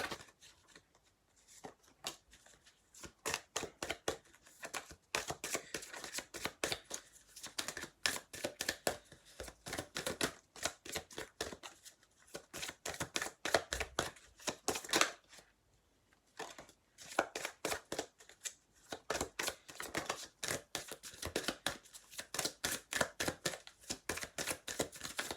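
Tarot cards are shuffled again and again close up, giving quiet, rapid riffling and flicking bursts with short pauses between them, no voices present.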